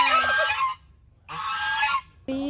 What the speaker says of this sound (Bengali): এই দেখ রাজহাঁস দেখেছিস